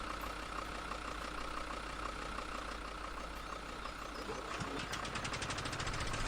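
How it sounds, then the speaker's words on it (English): A small petrol mower engine idles in the video game Farming Simulator 17, a steady low knocking putter that runs evenly at a quiet level, with a slight change in tone near the end. "There's a little petrol engine."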